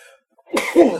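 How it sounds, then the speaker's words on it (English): A single sharp sneeze bursts out close by after a moment of quiet. "gotta sneeze."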